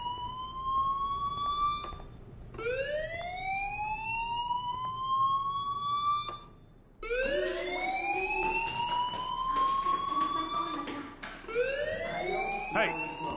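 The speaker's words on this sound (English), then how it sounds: "do you hear that fire alarm?" A fire alarm sounds as a siren-like electronic tone sweeping upward again and again, loud and close, with a short gap partway through before it resumes.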